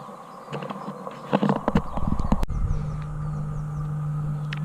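Big horses out in a field in the countryside around Horse Hay, Shropshire, with a few irregular clopping hoof thuds and knocks in the middle, then a steady low hum against outdoor ambience.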